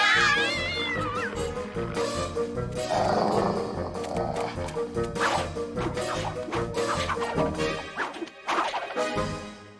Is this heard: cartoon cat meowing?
yes